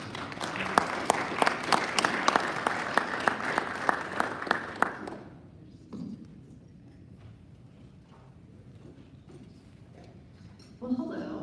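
An audience at a Norman Rotary Club meeting applauds to welcome speaker Sara King, a steady burst of clapping lasting about five seconds before it stops abruptly, leaving quiet room murmur and small shuffles.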